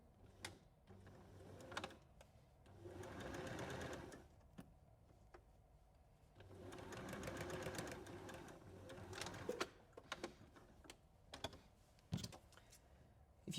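A sewing machine stitches a fabric bowl with a very small zigzag, running in several sustained bursts of a few seconds each, separated by pauses filled with sharp clicks and handling knocks.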